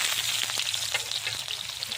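Chopped onion sizzles in hot oil over leftover fried potato and eggplant in a pan, a steady crackling fry with scattered brief pops, moderately close and without talk.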